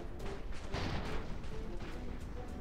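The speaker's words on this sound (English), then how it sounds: "Those cannons are firing." Cannons firing aboard airships in the video game Airships: Conquer the Skies, a steady rumble of overlapping booms and blasts with no clear pauses, moderately faint and without talk.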